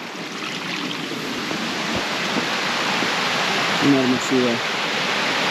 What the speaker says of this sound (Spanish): Esto alimenta acá toda la caída de la cascada